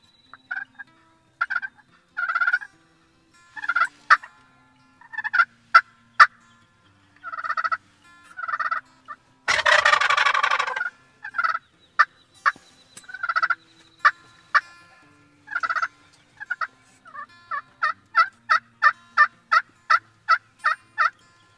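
Wild turkey gobbles and calls repeat in a steady series of bursts outdoors, loud and close, during a hunt with a decoy setup, with one long harsh burst midway and rapid clucks toward the end.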